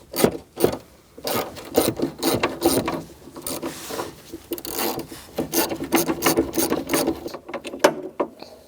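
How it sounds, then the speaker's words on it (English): A 13mm socket on an extension loosens the battery hold-down nut in a 2016-2019 Chevrolet Cruze, making bursts of quick ratcheting clicks and metallic rubbing, close and fairly loud, with short pauses and no speech. "You're going to use an extension with a 13mm socket and we're going to slide down here and remove this nut"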